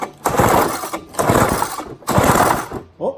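An old Toro Sno Pup snowblower engine is pulled over in three long, rough bursts of churning, sputtering cranking. The engine almost catches each time, and a short, weaker mechanical rattle comes at the end.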